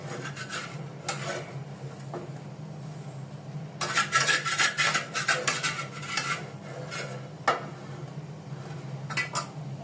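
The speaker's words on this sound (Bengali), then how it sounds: "শুটকিগুলি বেটে নিব" Dried chepa fish with onion and salt is ground on a shil-pata grinding stone. Rhythmic, rasping strokes come in bursts, louder and faster in the middle, with no talking.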